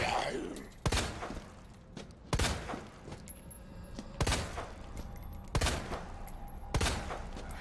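Video game gunshots fired at a zombie in Resident Evil 2, six sharp loud reports spaced about a second apart, with faint groaning and game ambience between them.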